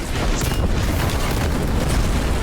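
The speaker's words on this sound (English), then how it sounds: "Man, the explosion of this thing is just delightful." Enemy explosion in the video game Warhammer 40,000: Boltgun: a loud, sustained booming roar with crackling debris filling the whole stretch, dense and close, without speech.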